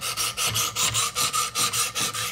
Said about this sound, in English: you can just see these stones take away the material